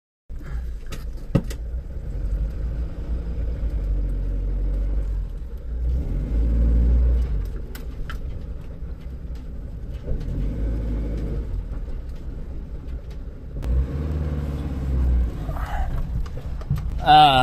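Engine of a Ford Collection camper van idling steadily after starting, a low continuous rumble close by, with someone speaking over it.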